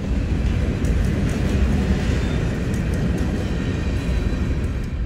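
A loud, continuous rumble and clatter of a train passing close by, steady throughout with a broad roaring noise.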